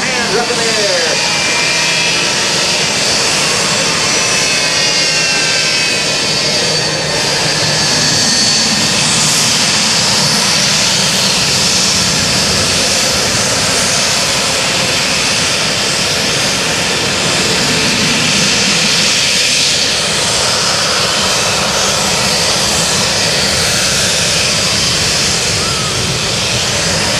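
A Boeing C-17 Globemaster III jet roars continuously and loudly during an airshow demonstration at Dover Air Force Base, its broad engine noise rising and shifting as it passes, with announcer speech faint beneath.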